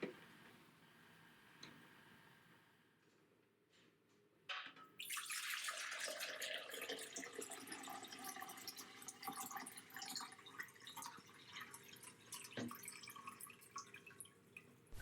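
Collected water from the tank of a Toyotomi TD Z110 desiccant dehumidifier pours into a jug as a steady, splashy gush that begins after a quiet few seconds and runs on with faint drips, fairly soft overall.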